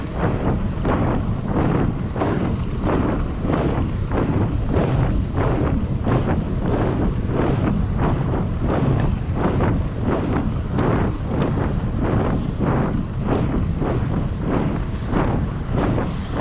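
Strong headwind roars across the microphone of an electric bike ridden unpowered up a long gradual incline, a loud, continuous broadband buffeting that surges and pulses steadily throughout.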